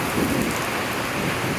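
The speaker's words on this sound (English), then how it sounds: "Usually they like the rain, but I think this storm is a little too much for them." Steady, heavy summer rainstorm pouring in the Kentucky Appalachian mountains, a dense continuous hiss of rain with a low rumble underneath, fairly loud and unbroken.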